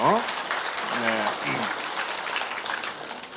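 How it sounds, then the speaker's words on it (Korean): Lecture audience applause at a public citizens' college talk: a steady patter of many hands lasting a few seconds, with voices heard over the start and middle. "우리 박수 한번 쳐주죠."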